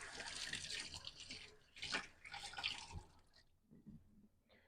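Hands being wetted under running water before handling bread dough, close splashing and trickling in uneven bursts that thin out toward the end, quiet overall.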